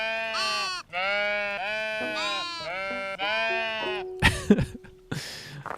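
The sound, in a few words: sheep bleating in a castle-building video game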